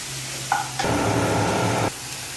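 Tomato sizzling in a hot pan with a little salt, a steady close frying hiss that swells suddenly for about a second, then drops back to a low sizzle.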